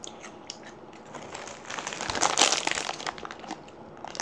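Cheetos snacks crunch between a child's teeth as a plastic snack bag crinkles up close, a cluster of crisp rustles and bites peaking midway.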